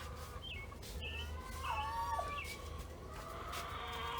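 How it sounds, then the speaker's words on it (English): Chickens cluck and call in a morning yard, a rooster-like crow rising midway, steady and moderately near over low ambient hum, with no talking. "The chickens are talking this morning."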